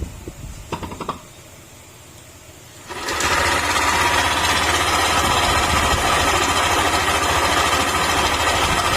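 A Yamaha Aerox 155 scooter engine with an abnormal noise sputters to life after a quieter stretch, then settles into a steady, buzzing idle that continues close and loud.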